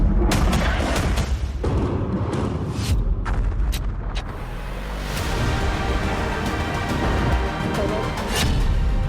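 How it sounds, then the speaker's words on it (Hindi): Explosions from bombing of Hezbollah sites in Beirut, heard as a dense, loud rumble with repeated sharp booms and thuds scattered across a constant roar of blasts. "आधी रात बेरूत पर बरसा बारूद"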